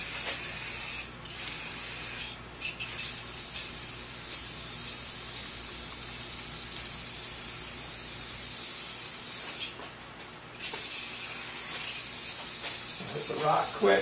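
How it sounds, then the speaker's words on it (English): Clear coat sprays from a can onto a rock and stick in a bear habitat model, loud close hissing bursts with short pauses between them. "We're just going to sprinkle some and we'll clear coat them down."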